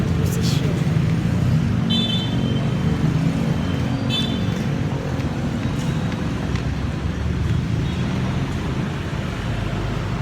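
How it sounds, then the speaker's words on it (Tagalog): Steady traffic noise from cars and motorcycles on the street in front of Harmony Mall, a continuous close roar of passing engines with brief higher tones, under faint talk. "Yan, mga motor, mga sasakyan, guys."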